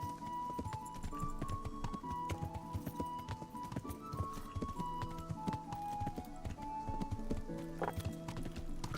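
Horses clip-clop steadily on the ground in the medieval video game Kingdom Come: Deliverance, hooves beating in a continuous irregular rhythm under faint background music and an occasional snort.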